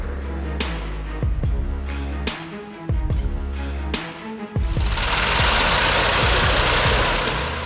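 Two tractors, an IMT 533 and a Universal 445, strain against each other in a tug of war, their loud engines chugging and knocking close by with repeated sharp bursts before the roar rises into a steady, harsh rumble.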